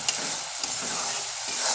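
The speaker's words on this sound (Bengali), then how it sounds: "দেখুন সুন্দর মশলাটা ভাজা ভাজা হয়ে আসতেছে" Spice paste (masala) frying in hot oil for a home-style vegetarian banana-flower curry, giving a steady, close sizzle with scraping stirring strokes throughout.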